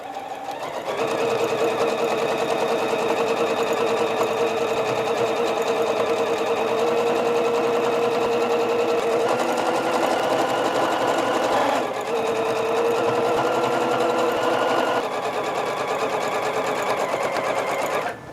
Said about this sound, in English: let's go ahead and sew this border on